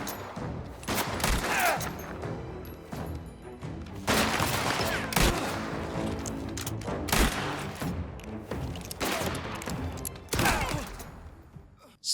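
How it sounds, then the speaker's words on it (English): Bursts of rapid gunfire in the video game Mafia: The Old Country crackle and boom in several volleys over a steady, noisy background, with shots clustered in intense, echoing flurries. "The reloads, gunfire, and bullet impacts are satisfying"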